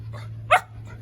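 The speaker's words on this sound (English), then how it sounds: "Puppies!" Puppies give a single short, sharp bark among soft whimpers, close by, over a low steady hum.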